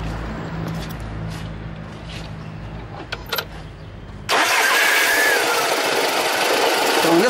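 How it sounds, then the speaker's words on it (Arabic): A car's gearbox makes an abnormal noise while the engine runs. A steady low engine drone holds for about four seconds, then a loud, harsh broadband whine and rattle comes in suddenly and continues close to the microphone. "هذا الصوت إذا كان هو أنت تنزل على الدبرياج ويسكت هو، معناتها في علبة السرعة"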